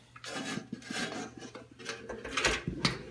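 A screwdriver loosening a screw on a solar yard light, a series of small metallic clicks, scrapes and ratcheting turns close up, irregular and fairly quiet.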